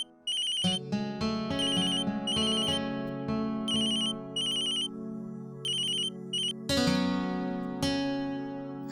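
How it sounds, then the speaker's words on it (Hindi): A phone ringtone plays a repeating electronic melody, loud and close, with bursts of bright chiming tones over a sustained backing. "वो माँ निखिल जी का फोन है।"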